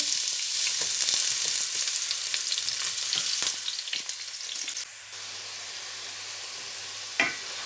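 Ginger garlic paste fries in hot oil for chana keema, giving a loud, dense sizzle that eases slightly partway through, with occasional soft stirring knocks.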